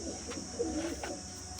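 Soft, low pigeon coos drift in and out over a steady background hum, with a few brief rustles.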